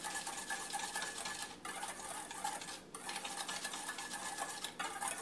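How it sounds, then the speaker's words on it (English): Sauce for a pork loin being mixed in a bowl, a steady close scraping and stirring sound that runs continuously with brief pauses and no speech. "And you just mix it up."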